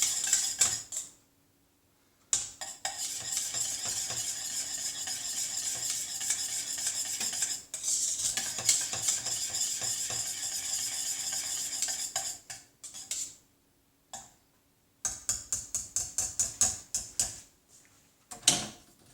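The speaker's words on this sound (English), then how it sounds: "I've just turned it off, but it's still, I need to keep stirring it." Milk pudding being stirred in a pot on a just-switched-off stove, with steady scraping and clinking of a utensil against the pot, broken by short pauses and a burst of quicker strokes near the end.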